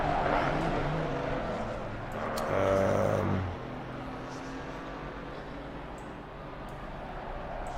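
A race car engine in the racing game Assetto Corsa Competizione, with a loud rising drone and a brief revving whine near the start, then settling into a steady, quieter engine hum.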